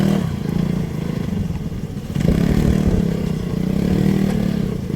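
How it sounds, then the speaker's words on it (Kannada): An off-road vehicle struggles up a slippery muddy hill, its mid-pitched engine revving loudly and continuously with clattering, briefly easing before surging again without gaining ground. "ಅವನ ಗಾಡಿನೂ ಹತ್ತಾ ಇಲ್ಲ. ಎಕ್ಸಿಟ್ರ್ ಕೊಡ್ತಾನೆ ಅವನೇ, ಹತ್ತಾ ಇಲ್ಲ ಗಾಡಿ."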